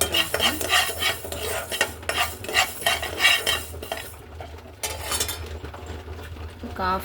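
Rice fries in a pan for a drumstick curry. A spoon scrapes and clatters against the metal in quick, busy bursts over a light sizzle, and a voice speaks briefly near the end.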